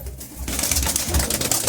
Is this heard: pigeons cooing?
yes